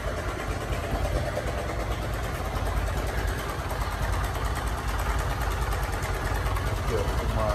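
A motorcycle engine that smokes heavily idles nearby with a steady, low, chugging rumble that stays even throughout, with no other sounds standing out.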